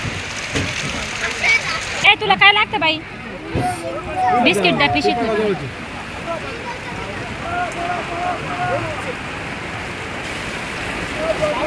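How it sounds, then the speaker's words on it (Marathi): Heavy rain falling at a temple, a dense steady hiss under close talking voices, and the downpour continues alone after the speech fades. "बघा तुफान पाऊस आहे"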